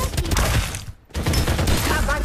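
Rapid gunfire in the Farlight 84 battle royale game, dense and loud bursts filling nearly the whole stretch with one brief lull midway.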